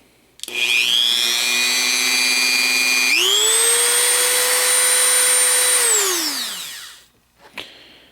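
A Chinese knockoff of a Dremel rotary tool, rated 15,000 to 35,000 RPM, whines loudly up to speed. The pitch steps higher partway through, holds steady, then winds down and fades to silence, and a short click follows.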